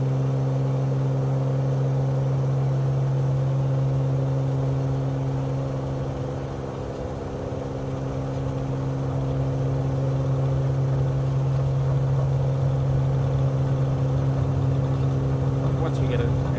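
A flight-simulator aircraft engine roars at full throttle during the takeoff roll in Microsoft Flight Simulator 2020, a loud, steady droning hum with layered tones that holds nearly unchanged from start to finish.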